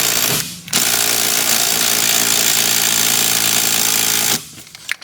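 A large air impact gun hammers at a rusty 13 millimeter bolt on a car during heater core replacement, giving one loud, sustained rattling burst of about four seconds, close up and with no voices.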